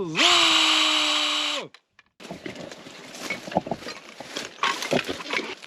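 A chainsaw cutting bushes at a ruined property in Portugal whines at high revs for a moment, cuts out, then gives way to rustling, snapping branches and crunching debris nearby.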